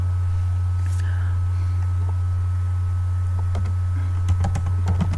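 Keys clatter on a computer keyboard while Python code is typed, a short burst of quick taps arriving near the end over a steady low electrical hum.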